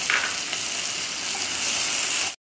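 Chopped tomato dropped into hot oil in a pan sizzles and crackles with a steady, bright frying hiss that stays fairly close, then cuts off abruptly.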